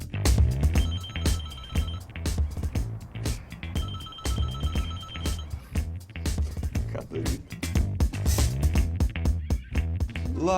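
A telephone rings in repeated bursts of electronic trilling over about ten seconds, with other indoor sounds between the rings.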